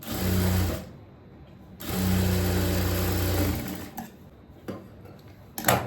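A sewing machine stitches a blouse in two loud, steady runs, one short and one longer, separated by a pause. Faint handling clicks and small knocks follow as the fabric is adjusted.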